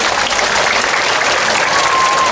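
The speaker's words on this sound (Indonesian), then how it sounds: "Tepuk tangan untuk Pak Menteri." A crowd at an Indonesian religious gathering applauds a government minister, dense loud clapping filling the whole short stretch without pause.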